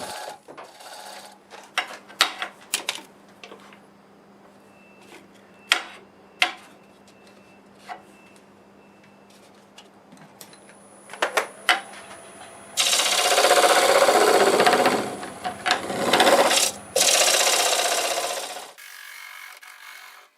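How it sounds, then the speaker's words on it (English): A negative rake scraper shapes a natural-edge English walnut crotch bowl on a wood lathe. Scattered knocks and taps lead into a sustained, loud rasping scrape that lasts several seconds before cutting off. "then we'll use the negative rake scraper"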